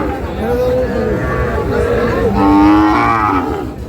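Sahiwal cattle mooing at a busy livestock market, several long drawn-out lowing calls one after another, near and loud over a background of crowd chatter and voices.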